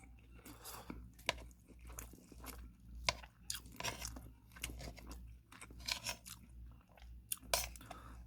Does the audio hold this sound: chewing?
yes